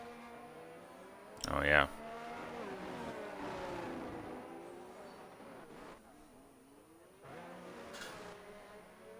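Alfa Romeo race cars in a racing video game at the Azerbaijan Grand Prix drone steadily, their engines rising and falling beneath almost continuous commentary, with a brief loud burst near the start.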